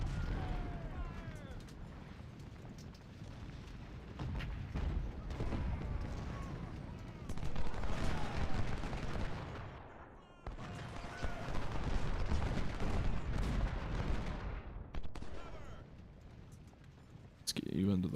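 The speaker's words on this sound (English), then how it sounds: "That artillery." Artillery fire from American Civil War cannons at the Battle of Bull Run in the Ultimate General: Civil War game, with repeated booms and crackling volleys rolling over battle noise and shouting voices.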